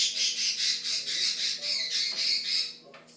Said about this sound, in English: My in-laws have birds, sorry.